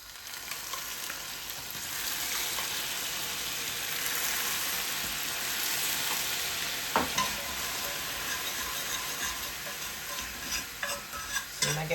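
Sugar browns in a pot while being stirred, giving a steady bubbling sizzle and scraping swirl that fades toward the end into separate scraping taps.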